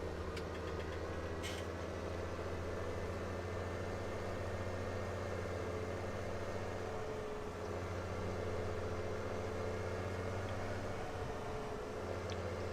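Tractor engine idling in a farming game, a steady, low, throbbing drone that holds constant and close throughout, with faint clicks early on.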